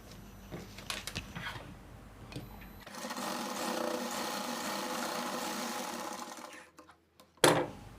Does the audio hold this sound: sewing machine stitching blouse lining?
yes